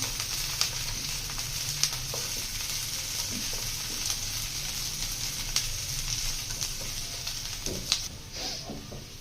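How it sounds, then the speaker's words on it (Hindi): Finely chopped green chillies, garlic and ginger fry in a pan for a preparation of baingan bharta. A continuous loud sizzle is heard, with occasional stirring clicks and no talking. "थोड़ा सा हमने इसको भूनना है, तकरीबन 1 मिनट, बस ज़्यादा नहीं।"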